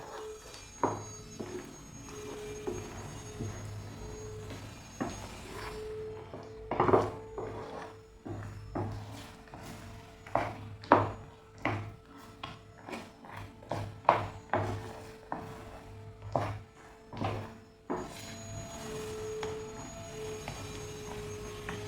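A spoon scrapes and knocks against a pan while a thick peanut and jaggery sweet mixture is stirred, giving irregular clinks and rubs at close range over a faint steady hum.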